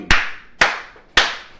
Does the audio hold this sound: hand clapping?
yes